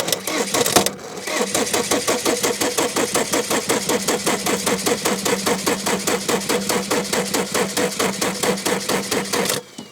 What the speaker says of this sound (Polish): Mamy paliwo na wtryskach. Zaraz zapali.